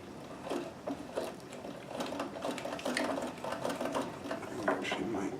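A Necchi BU Nova sewing machine runs steadily while stitching with a double needle, a continuous fast mechanical whirring and clatter with rhythmic ticks, held at close range throughout.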